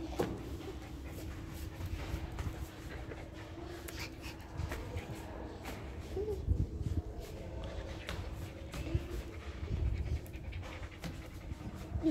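Dogs pant close by with quick, rhythmic, fairly soft breaths that continue throughout, with occasional snuffles and shuffling. No one speaks.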